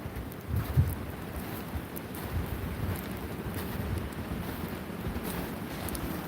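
Strong cold wind during an ice storm blows in a continuous low rushing roar with heavy gusts buffeting the microphone, steady and close throughout with no speech.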